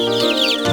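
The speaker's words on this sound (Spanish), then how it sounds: "¿Cómo hace el pollito?" A farm chick peeping in a short burst of high, thin chirps, close and clear with nothing else heard.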